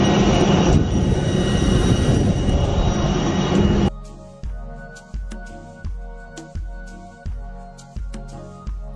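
A Wizz Air passenger jet takes off. A loud, steady engine roar fills the first few seconds, then gives way to a quieter hum broken by regular heavy thumps.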